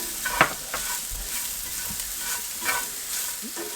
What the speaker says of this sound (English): we're going to saute that garlic in with our sausage